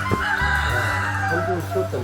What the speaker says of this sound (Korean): 근처에 있던 닭이 우는 소리가 들렸는데요.